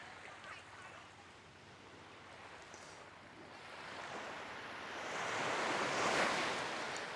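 Ocean waves breaking about a kilometer offshore, heard as a broad, rushing wash that swells louder toward the end, mixed with wind buffeting the microphone and no speech.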